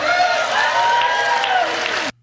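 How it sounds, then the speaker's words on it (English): Room full of journalists at a dinner applauding and cheering for Biden, a dense steady wash of clapping and voices that cuts off abruptly at the end. "reporters are cheering after Biden mentions his reelection campaign"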